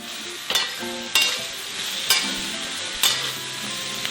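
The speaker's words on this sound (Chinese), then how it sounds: "颠炒" Pork intestines and vegetables tossed and stir-fried in a wok sizzle steadily, with four sharp clanking scrapes of the wok spaced about a second apart, close and clear with no talk.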